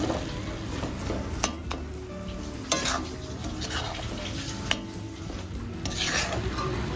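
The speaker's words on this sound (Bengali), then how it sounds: "দিয়ে এইভাবে ভালো করে নাড়িয়ে নেব" Semai vermicelli and powdered milk are stirred in a pan: a steady scraping, rubbing texture with a few sharp utensil clicks against the pan, close and continuous, with no talking.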